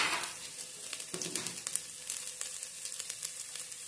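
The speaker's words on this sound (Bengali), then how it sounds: "দিয়ে দেব কড়াইয়ে আদা কুচি" Chopped ginger hits hot white cooking oil in a wok, producing a soft, crackling sizzle with scattered small pops that holds steady at a fairly low level.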